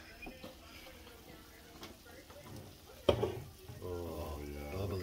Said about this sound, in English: Look at the sizzle bubs.